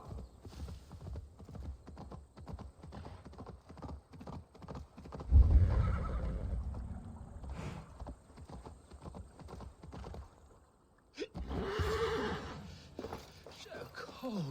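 Hooves clip-clop steadily and close in Assassin's Creed Valhalla, broken by two loud neighs or whinnies, one midway and one near the end, with faint game voices in the background.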